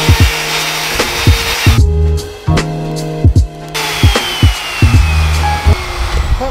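A router plunge-cuts a solid oak worktop, its loud close motor whine biting into the wood in repeated rough grinding bursts with a brief lull partway through, no talking.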